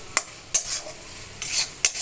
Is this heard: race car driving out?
no